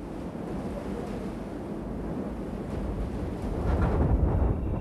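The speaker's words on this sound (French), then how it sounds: "Le vent de sable nous cache la caravane." Sandstorm wind sweeping across the Ténéré desert, a dense rushing roar buffeting the microphone and rising in strength toward the end.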